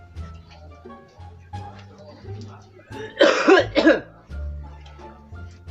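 Two harsh coughs burst out in quick succession, loud and close, between stretches of low talking.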